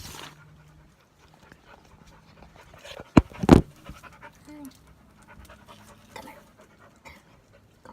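A dog pants quietly with soft rhythmic breaths, interrupted by a sharp loud thump midway, while a person speaks briefly.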